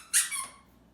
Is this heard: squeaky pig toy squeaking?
yes